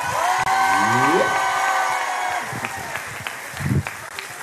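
Audience applause and scattered cheers at a live Guadeloupe television show for a guest singer, swelling under music and tones at first, then thinning into sparse claps and a presenter's voice near the end.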